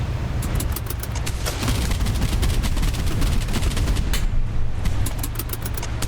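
Rapid bursts of gunfire from PT boat guns in the naval combat game Boat Crew, set in Pacific warfare, crackle continuously and loudly over a steady low engine rumble, with no voices.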